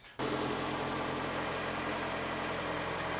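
A 2003-2009 Toyota Camry engine cranks and catches just after a brief silence, then settles into a steady, even idle with a low mechanical hum close by.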